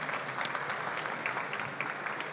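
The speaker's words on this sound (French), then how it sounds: "d'abord on va vous applaudir" Audience applause fills the hall after a French cybersecurity conference talk, a dense steady patter of many hands clapping at moderate distance, with no voices over it.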